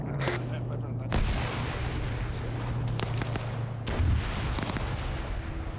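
A technical vehicle's mounted machine gun opens up in a video game firefight, with several sharp, loud bursts standing out over steady low battle rumble and a droning engine hum.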